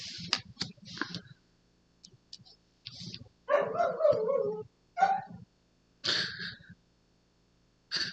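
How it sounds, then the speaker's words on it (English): An indoor dog gives bursts of short, sharp barks and yips, loud and close, separated by quiet gaps, with one longer whining, growling stretch in the middle, agitated by neighbors walking outside. "My dog is really upset that my neighbors are outside walking around."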